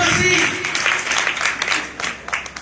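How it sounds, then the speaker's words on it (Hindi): A church congregation clapping, a burst of applause that fades into scattered claps while voices carry over it. "एक बार ताली हो जाएंगे"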